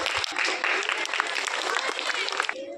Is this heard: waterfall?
no